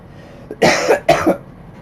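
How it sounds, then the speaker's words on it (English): Two distinct coughs in quick succession, close and fairly loud, after a brief quiet lead-in. "please pardon my cough"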